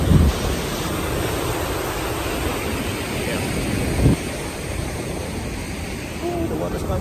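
Surf washes ashore at Hermosa Beach, California, a steady hiss of breaking water mixed with wind buffeting the microphone, one louder gust near the middle, as people chat faintly nearby.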